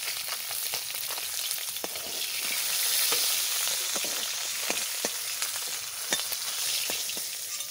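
Tilapia fish frying in hot oil in a pan, a steady close sizzle with sharp crackles and pops scattered through it, heard alone without talk.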